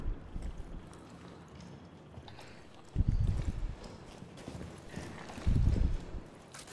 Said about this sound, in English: I heard someone's Skechers moving.